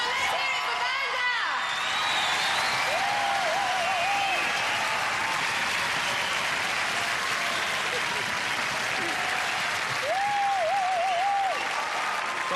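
A studio audience at the 1992 UK Gladiators grand final claps steadily and loudly, sustained applause with a few cheers running throughout.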